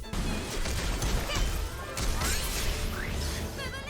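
Glassy Nevi enemy cores shatter in Gravity Rush 2, loud dense crashes and crunching debris with swishing whooshes, packed tightly across the whole stretch.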